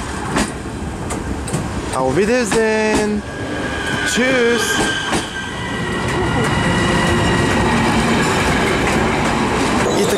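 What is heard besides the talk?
train departing from a station in Sofia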